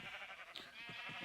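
Sheep bleating in Minecraft, several short repeated calls overlapping one another, moderately loud with no talk.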